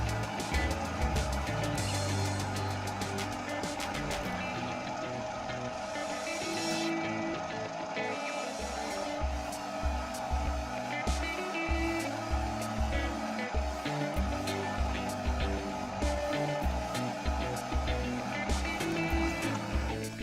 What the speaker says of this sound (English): Then it was back over to the mill to cut a slot for the file to pass through the table. For this I'm using a 5mm end mill.